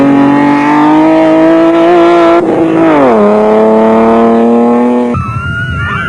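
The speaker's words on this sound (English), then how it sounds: "with Land Rover still sounding healthy" A Land Rover rally car racing in an off-road rally in South Africa, its engine droning loudly at high revs, dipping briefly as it shifts, then climbing again with a harsher, rougher note toward the end.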